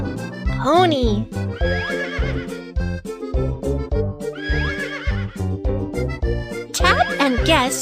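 A horse whinnies twice in a video game, loud and close, over bouncy synthesized music with rhythmic clip-clop style beats.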